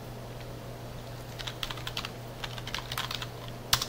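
Computer keyboard keys tapped in short irregular bursts during a web design lesson, fairly close and moderately quiet over a steady low hum, ending in a sharper keystroke.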